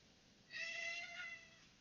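A cat meows faintly in a room during a programming session: a single drawn-out meow rising and falling over about a second, alone against a quiet background hiss.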